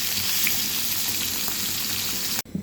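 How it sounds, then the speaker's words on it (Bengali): Pieces of rohu fish frying in hot oil, a loud steady crackling sizzle that stops abruptly near the end. "এই তো হয়ে গেল আমার রুই মাছ ফ্রাই এখন জাস্ট চুলো থেকে নামিয়ে নেব"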